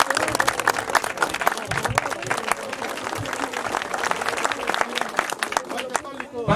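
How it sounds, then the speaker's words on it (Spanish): Audience applause at a Catholic community gathering in a village, a sustained burst of clapping from a crowd, fairly close, with voices mixed in beneath it. "Recibamos a nuestro hermano Eduardo con fuertes aplausos."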